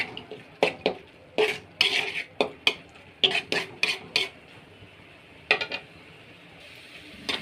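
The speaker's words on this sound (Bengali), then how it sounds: "নাড়ে নেব কিছুক্ষণ" Shrimp cooking in a pan with turmeric and chilli powder being stirred, a series of sharp metallic scrapes and clinks of a spoon against the pan at an irregular rhythm, close by, with quiet frying between strokes.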